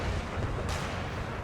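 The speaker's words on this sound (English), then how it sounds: "quite a few of these cannon shots are landing above these" Distant cannon fire in a battle in the strategy game Empire: Total War, a low, rumbling boom that swells once about halfway through and sits over a steady wash of battlefield noise, with no voices present.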